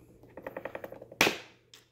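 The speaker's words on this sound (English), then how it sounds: "so I'm just gonna clip them off" A rapid series of small metallic clicks, then one sharp, loud snap of cutters biting through a metal staple in a couch, ringing off briefly, with a faint tick afterward.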